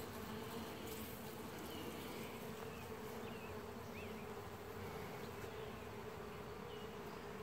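Honeybees buzz inside their hive as a dense, continuous, steady drone, close and even throughout, with no talking.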